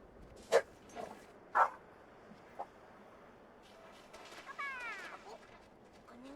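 A pet dog barks in a room: two sharp, loud barks early on, a fainter yip later, then whining, whimpering sounds toward the end amid quiet background.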